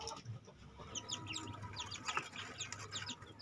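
A mother hen separated from her chicks two days earlier clucks softly and steadily, with higher chirps mixed in and a low rumbling hum beneath, moderately close in a quiet outdoor setting.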